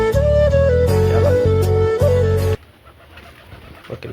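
Desi and Sirazi pigeons coo in a steady, loud run of repeated notes for about two and a half seconds, then drop away, leaving faint scattered rustling.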